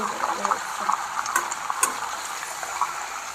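Mutton frying in oil in a pan for rogan josh, a close, steady sizzle with frequent clinks and scrapes of stirring.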